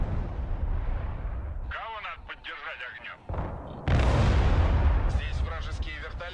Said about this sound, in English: Artillery here on the back left.